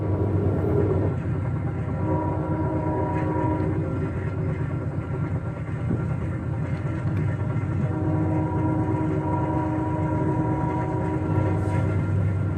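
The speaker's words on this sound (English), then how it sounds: "That is the horn blowing" Amtrak Auto Train at night, its horn sounding repeatedly in long tonal blasts over the steady rumble and clatter of the moving train, heard from inside the cars.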